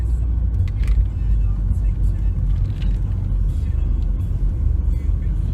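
Steady low engine rumble and road noise from inside a moving car, with the camera mounted on the dashboard, a continuous droning hum that fills the whole stretch without letting up.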